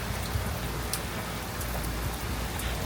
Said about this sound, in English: We're getting some rain and some wind.